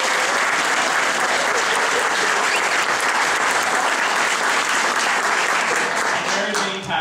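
A concert audience gives dense, sustained applause for a vocal group, many hands clapping at once in a loud, even roar that holds for several seconds before starting to thin right at the end.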